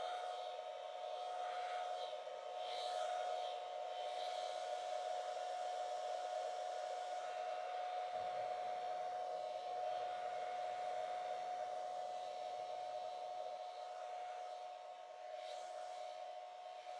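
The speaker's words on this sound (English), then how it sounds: "I'll try this with my hair blower again." A hair dryer blows steadily on an acrylic paint pour, a close, continuous whooshing drone with a strong fixed whine running unbroken for the whole stretch.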